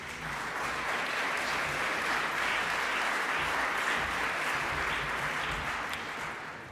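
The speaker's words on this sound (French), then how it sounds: "On l'applaudit" Sustained applause from a gala audience greeting an evening's spokesperson at a Quebec entrepreneurship awards event, dense and steady clapping filling the room for several seconds without speech.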